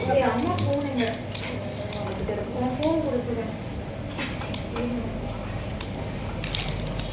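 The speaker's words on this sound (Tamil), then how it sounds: "மடக்கிட்டு சின்ன சின்ன பீஸை நம்ம கட் பண்ணுவோம்" Scissors cut folded paper into small pieces for a children's paper craft, giving several crisp, irregular snips and crinkles with talking in between.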